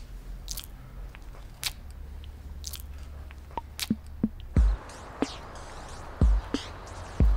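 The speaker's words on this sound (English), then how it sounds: "Chew it good." Someone chews food with wet, crunchy bites and squishy mouth sounds, a series of distinct chomps growing more pronounced toward the end, close to the ear with no speech.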